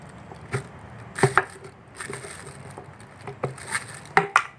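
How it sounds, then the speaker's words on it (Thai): A knife or screwdriver pries at the cap of a used plastic vegetable oil bottle, giving a few sharp irregular knocks and scrapes, close and fairly quiet. "มีดขอหรือไขควงก็ได้งัดฝามันออกนะครับ"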